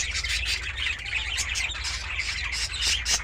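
A cockatiel eating cantaloupe gives repeated sharp chirps and squawks in quick irregular bursts, fairly close, with no talking.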